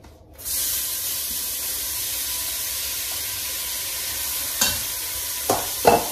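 Chopped onions go into a pan of hot olive oil at medium to high heat, bursting into a loud, steady sizzle and hiss that holds throughout, with a few brief scrapes of stirring near the end.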